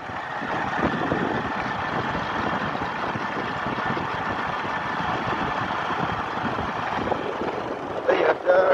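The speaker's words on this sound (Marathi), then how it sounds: "मी एकदम हळू आणि सेफ्टी पद्धतीने बाईक चालवतोय." A motorbike ridden slowly and carefully along a hilly mountain road beside a deep valley gives a steady, close engine drone with wind rush, with a brief louder bump near the end.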